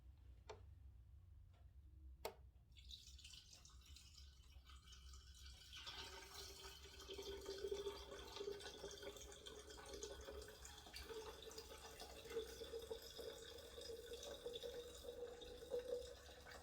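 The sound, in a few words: pouring homemade lemonade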